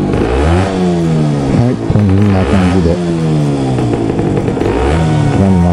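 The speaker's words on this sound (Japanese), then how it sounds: "でエンジンをかけます。" Two-stroke Honda NS-1 motorcycle engine running and revving hard, close up and loud, with buzzing rises and falls in pitch throughout and a short dip near the middle.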